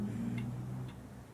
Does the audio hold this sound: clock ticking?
yes